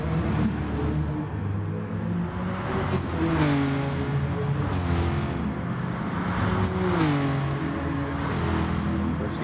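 Race cars including a GTI roaring down the long straight at Bathurst during an ARC endurance race, engines droning steadily with rising and falling pitch as cars close up and pass nearby.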